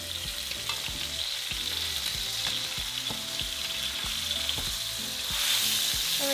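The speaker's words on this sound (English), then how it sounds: "we're going to sear our pork chop for about 2 to 3 minutes on each side" Pork chops searing in hot oil in a pan, a loud steady sizzle running throughout with faint rhythmic scraping underneath, growing slightly hotter toward the end, with no one speaking.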